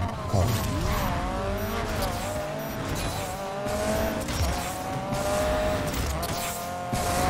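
A car in the Need for Speed Payback racing game jolts over bumpy dirt ground with a steady engine roar, tire scrabbling and rising and falling revs, loud and continuous throughout.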